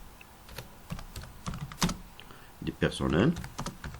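Typing on a computer keyboard while writing an administrative letter in Word, a run of quiet irregular key clicks with a brief faster burst, heard under someone speaking French.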